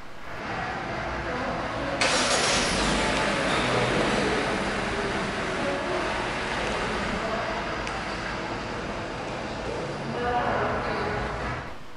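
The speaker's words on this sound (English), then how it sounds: "In order to start the Stargazer, make sure that the car is locked, then press and hold the start-stop button on your key fob." A 2023 Hyundai Stargazer 1.5 GLS Premium IVT engine turning over on remote start, heard outdoors as a broad steady hum that rises abruptly at about two seconds and settles into an even idle, with a faint talking voice present.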